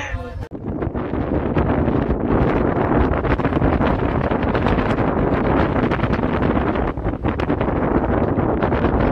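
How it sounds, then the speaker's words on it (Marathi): Strong wind rushes through a window opening on Girnar mountain, a loud, sustained gusting roar with crackling buffets against the microphone for the whole stretch. "शीळ घालणारा तुफान वारा आपल्याला इकडे अनुभवता येतो"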